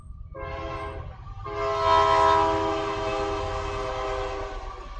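A train rolls past with a long, loud horn blast sounding over steady rumbling rail noise, swelling midway and holding to the end.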